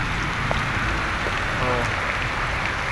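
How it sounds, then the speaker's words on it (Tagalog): Heavy rain pouring down steadily in a dense, broadband roar, close and constant throughout, with a voice faintly under it. "Ay, lakas ng ulan, no?"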